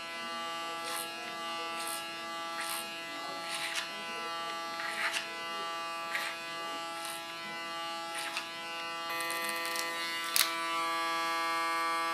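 An electric hair clipper buzzes steadily close by during a cut and color on a woman's hair, the tone holding constant with brief louder strokes as it is drawn through the hair like a comb.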